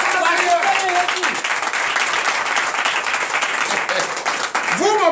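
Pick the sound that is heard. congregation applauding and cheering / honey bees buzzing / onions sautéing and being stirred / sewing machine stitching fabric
congregation applauding and cheering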